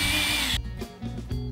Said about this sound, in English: Drill a tiny hole 1/2 inch from the bottom edge of the StratoCone.